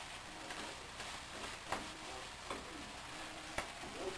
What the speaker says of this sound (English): let's just half a tin of sweet corn, all for good measure, and continue to stir fry